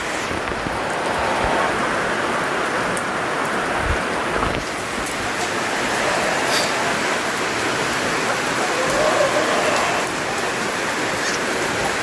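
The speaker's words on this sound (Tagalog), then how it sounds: "Ang lakas ng ulan." Heavy rain pours down steadily on a new roof, a dense, loud hiss of drops drumming on surfaces, with no voices.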